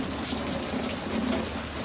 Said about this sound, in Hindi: बारिश देखो कितनी तेज आ रही